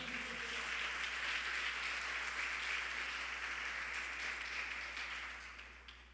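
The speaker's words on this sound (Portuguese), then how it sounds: "Aplaude ao Senhor." Church congregation applauds during a sermon, a steady wash of clapping that holds at a fairly faint level and tapers off at the end, with a low hum beneath.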